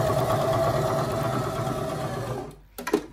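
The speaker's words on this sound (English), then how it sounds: "So when I start to sew now with my needle down" An Elna 320 sewing machine stitches on its SS stitch setting with the needle down, giving a close, steady mechanical whir. After about two and a half seconds it stops and a few light clicks follow.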